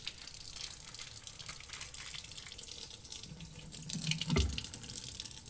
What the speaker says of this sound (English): Just turn on your hot water to a low flow